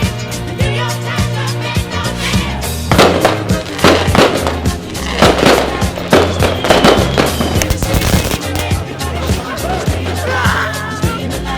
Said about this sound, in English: Let's get some fireworks up your chavvy.